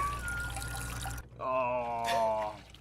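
Warm liquid poured from a container into cupped hands, a short splashing pour that stops, then a brief trickle.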